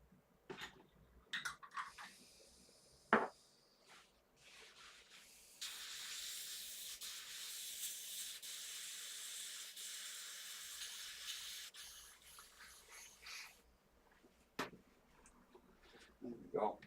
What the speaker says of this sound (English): Just blow a bit of cleaner through.